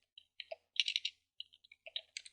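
Quiet, close keystrokes on a computer keyboard sound in short irregular clusters of clicks while a command is typed in a terminal.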